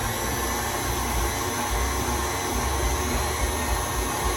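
Electric mixer beating red velvet cake batter after buttermilk is added, a steady loud whirring motor hum with no breaks and no voices.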